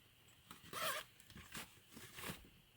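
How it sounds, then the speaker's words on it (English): Faint zipper being pulled open on an aftermarket truck accessory, a few short rasping strokes, quiet and close with no talking. "So they got a zipper up top here."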